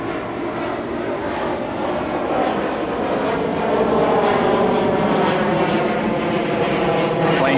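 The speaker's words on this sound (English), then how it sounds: "Planes, when they're coming from the northeast, always circle over my yard to make that turn to go to the New Orleans International Airport" A propeller airplane circles overhead on its turn toward New Orleans International Airport, a steady, loud engine drone that swells slightly as it passes, continuous with no voices.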